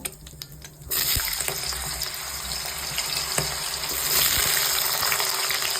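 Potatoes drop into hot oil in a wok for chow mein, setting off a sudden loud sizzle that holds steady and swells slightly over the following seconds.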